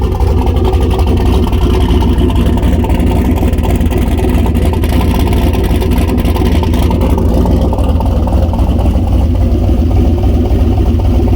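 A turbocharged LS V8 swapped into a Mazda Miata runs steadily after firing up, a loud, continuous engine drone that holds level throughout with a slight shift in tone near the end.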